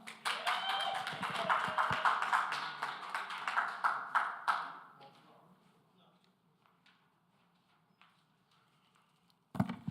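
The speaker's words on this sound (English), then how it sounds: "Let's clap him up." An audience at a community meeting claps for a speaker, a quick, close burst of hand clapping that lasts about five seconds and then dies away into near quiet, followed by a sharp knock.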